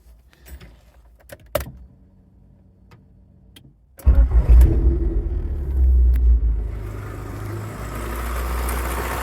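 A few clicks and a brief whirring crank, then a Honda engine converted from dual-point to multi-point fuel injection catches with a loud rumble and settles into a steady idle; its timing belt is loose.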